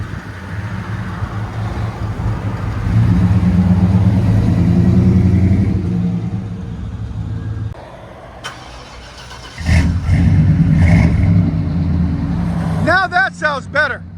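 A 1994 Chevy 1500 pickup with a 5.7L V8 and Flowmaster 40 Series exhaust rumbles close by, swelling louder, easing off, then surging again, with a voice speaking briefly near the end.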